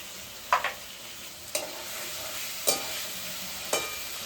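Cumin paste, turmeric and chili powder fry and sizzle steadily in a pan for a boallmach oil curry, with about five sharp scraping stirs spaced roughly a second apart over the constant hiss.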